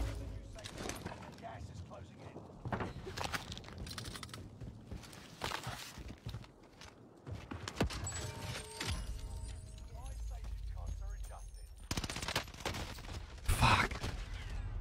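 Gunfire in an online shooter video game, with repeated bursts of shots and a few sharp cracks scattered across the stretch, heard under frequent talking from a player.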